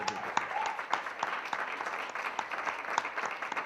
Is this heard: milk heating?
no